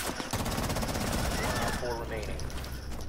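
Automatic gunfire in the tactical shooter Rainbow Six Siege rattles in a rapid, loud, close burst for nearly two seconds, then gives way to quieter game ambience and a fainter shot.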